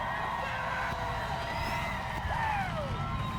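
A crowd cheers and whoops at a demolition derby, a steady roar under an announcer's amplified voice, with a siren-like whistle rising and falling through it.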